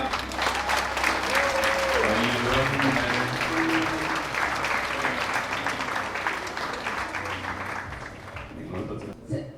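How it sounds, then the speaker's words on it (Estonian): Loud, sustained applause from an audience at a beauty pageant's dance and bikini round, with music and crowd noise mixed in, gradually fading toward the end. "Teeme suurema aplausi korrale ja..."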